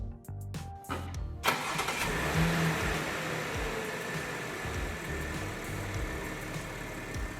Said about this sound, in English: I'm going to remote start the car so it can heat up to a comfortable temperature.